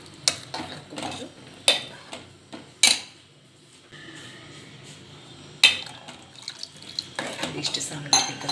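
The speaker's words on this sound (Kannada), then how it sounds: "ನೀರು ಎಷ್ಟು ಬೇಕೋ ಅಷ್ಟು" Water is poured into a pot of okra sambar made without lentils, a soft steady pour set among sharp clinks and clatter of metal utensils and pots in a home kitchen.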